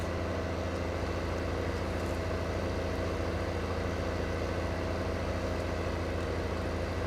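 An articulating John Deere tractor in the video game Farming Simulator 15 runs at a constant low engine drone. The hum stays steady and even throughout, with no talk.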